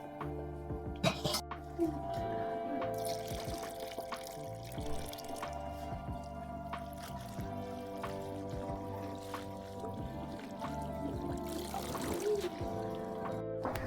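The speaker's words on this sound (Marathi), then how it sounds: "ही चांगली दोन तीन पानांना धुवून घ्यायची कारण माती राहते" Wild monsoon leafy greens being rinsed in water, with steady pouring and trickling splashes running throughout, close by and moderately loud, with a few clatters and handling noises.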